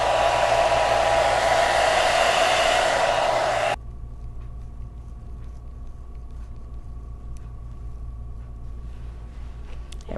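A hair dryer blows hair dry for a few seconds with a loud, steady roar, then cuts abruptly to a low electrical hum that lingers.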